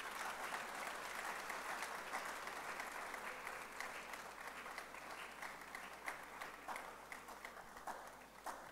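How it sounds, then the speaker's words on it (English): Steady round of audience applause at a TWEEK 2025 conference session, many hands clapping evenly and continuously, somewhat distant and soft, with no voices over it. "Please just give a round of applause."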